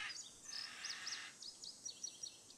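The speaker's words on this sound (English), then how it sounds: "That is a weird bird sound." An odd bird call in the video game Nancy Drew: Ghost Dogs of Moon Lake, a faint high chirping and warbling that repeats a few times over a steady background hiss.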